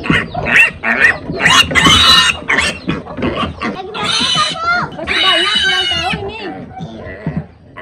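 Pigs squealing and screaming in loud, repeated high-pitched bursts while people talk.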